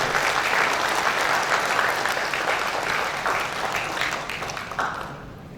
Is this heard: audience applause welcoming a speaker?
yes